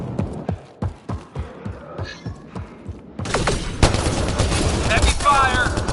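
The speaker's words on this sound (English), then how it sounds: "Heavy fire!" Heavy automatic gunfire rattles through a Mass Effect Andromeda combat scene: rapid rhythmic bursts, then a dense, loud wall of overlapping shots, explosions and effects with faint voices mixed in.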